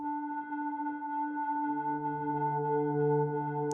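A distorted Omnisphere synth patch in granular mode holds sustained tones, and a lower note joins partway through, building a steady, haunting, slightly grainy drone at moderate volume.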